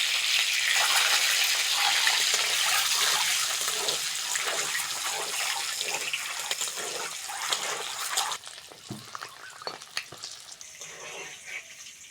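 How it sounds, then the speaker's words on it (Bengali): Eggs dropped into hot oil in a village kitchen pan, sending up a loud, dense, close hiss of frying that eases after about eight seconds into a lighter crackle. No talking. "এবার তেলের মধ্যে ডিমগুলো দিয়ে দেবো"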